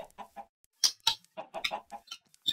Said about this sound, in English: Let's go lure those chickens.